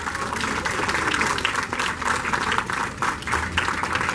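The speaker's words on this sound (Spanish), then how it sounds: "¡Fuertes aplausos!" Loud, dense audience applause rolls on steadily for several seconds at a cosplay contest during a national comics festival, the many hands blending into a continuous wash.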